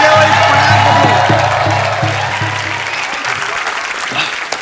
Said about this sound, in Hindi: सो एक बार जोरदार तालियां हो जाएं handsome and versatile actor Jimmy Shergill के लिए